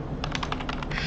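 Keys on a computer keyboard are tapped in a rapid run of about eight light clicks, close and fairly soft over a steady background hum.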